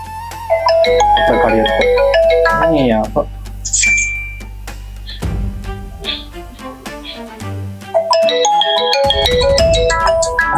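A loud melodic phone ringtone plays chiming electronic tones over a steady bass line, repeating its tune with brief pauses.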